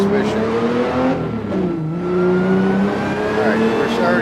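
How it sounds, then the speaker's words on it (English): Car transmission whine from a modded car, a sustained droning tone that rises and dips with engine speed, loud and continuous throughout. "we're already starting to hear that transmission whine"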